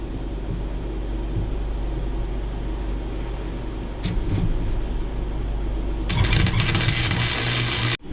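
Tack welds joining steel pieces of a D20 die crackle and buzz loudly in bursts over a steady low hum, starting midway and continuing in close, harsh spurts.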